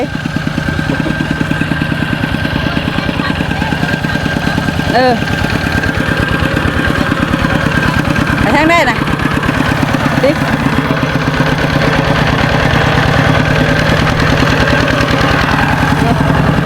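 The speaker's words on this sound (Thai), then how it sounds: "ขี่รถไถขี่รถไถ" A farm tractor engine idles with a steady, throbbing putter close by in a rice field, while people chat loosely over it.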